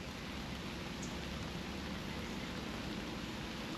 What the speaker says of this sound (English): A little rain's not going to keep me out of the woods.